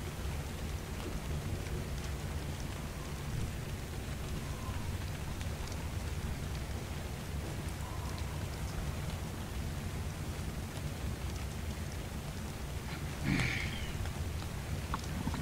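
Rain falls steadily in the video game ARK: Survival Evolved, a constant soft hiss throughout, with a brief brighter crackle near the end.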